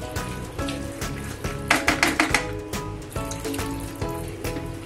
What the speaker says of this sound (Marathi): आपण याच्यामध्ये पाणी घालू.